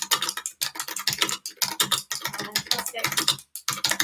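Beaters, pens and pencils tapping on surfaces in a busy stream of quick, irregular clicks and knocks, fairly close and steady, with brief pauses and some faint voices mixed in.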